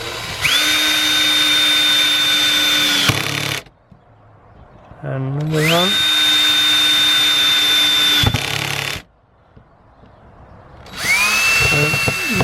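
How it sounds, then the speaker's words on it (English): A power drill on slow speed with the clutch engaged drives second-hand screws into a wooden crop frame in a garden, three sustained whining bursts separated by pauses, with someone talking briefly between them. "Let the drill do the work."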